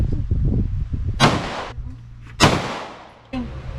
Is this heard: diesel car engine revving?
no